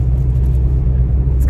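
Car driving along an empty road during a quiet shutdown day, giving a steady, loud low engine and road rumble close up inside the cabin with no breaks and no voices.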